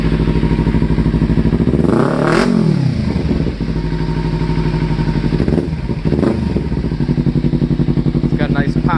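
A Kawasaki Ninja with a Ransoto slip-on exhaust idles loud and raspy nearby, with two sharp throttle blips swelling and falling back, and a few popping crackles near the end.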